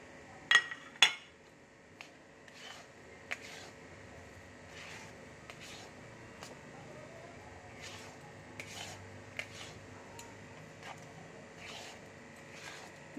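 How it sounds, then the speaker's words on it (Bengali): Sandesh mixture is added to a pan and stirred, heard as faint scraping and a series of light metallic clinks of a spoon against the pan at irregular intervals over a quiet background, without speech. "এবার আমি মাখা সন্দেশটা দিয়ে দিচ্ছি।"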